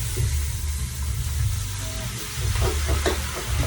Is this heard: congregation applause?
no